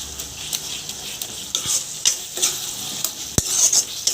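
Taro with dried fish frying in oil in a pan, stirred with a spatula: loud continuous sizzle with repeated scraping strokes and metallic taps against the pan.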